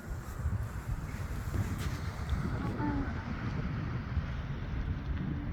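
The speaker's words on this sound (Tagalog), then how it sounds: "Ang ganda ng ang ganda ng hangin." Steady rushing wind buffets the microphone outdoors, a constant low roar with no pauses.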